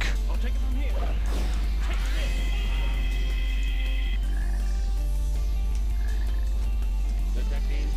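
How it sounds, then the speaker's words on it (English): Frog croaking in the video game Sonic Heroes, a repeated low croak mixed with busy game music and effects while someone talks over it. "Detecting a frog in the vicinity."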